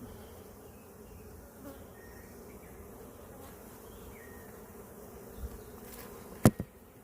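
Honey bees buzz at an opened beehive in a steady, low, continuous drone, with a couple of sharp knocks near the end.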